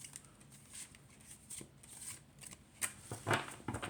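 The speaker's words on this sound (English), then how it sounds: "Let's do a hand shuffle." Basic cardstock oracle cards hand-shuffled close up, giving soft papery riffles and taps in short bursts against a quiet background.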